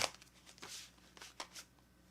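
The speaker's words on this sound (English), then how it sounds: "All right, I'm shuffling right now." Soft, quick riffling bursts of playing cards being shuffled, several short flurries close by and fairly quiet.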